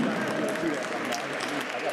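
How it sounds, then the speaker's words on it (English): A round of applause from the crowd at a Black History Month flag raising ceremony, steady clapping throughout, with a voice faintly mixed in. "Give her a round of applause, y'all."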